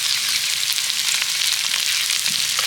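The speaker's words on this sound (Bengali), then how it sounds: "এবার আমি সবজিগুলোকে ভালো করে ভেজে নেব" Steady, close sizzling of vegetables frying in a pan with salt added, a continuous bright hiss with no talking.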